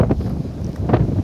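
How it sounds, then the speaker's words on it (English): Gusty wind at the beach in Yabucoa, Puerto Rico, buffets the microphone in low, rumbling bursts for a brief moment. "it is windy."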